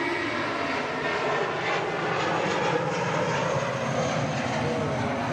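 A British Airways airliner's engines roar steadily at Manchester Airport, a loud, sustained broadband rumble and whine with no break and no talking.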